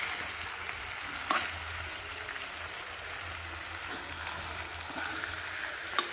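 Pork fries in a pan with a steady, low sizzle, broken by a couple of clattering stirs, one early and one at the very end.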